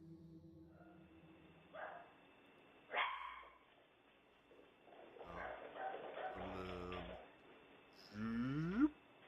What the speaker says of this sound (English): You can see and hear the 2 dogs running and barking